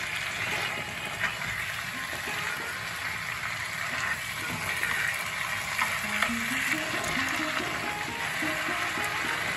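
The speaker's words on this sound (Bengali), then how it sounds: "এটা দিয়ে সব মশলা দিয়ে এখন নাড়বো আর ঢেকে দেবো" Spices being stirred into masala chicken in a frying pan, a steady close sizzle with scraping of the spatula running through the whole stretch, with no voices.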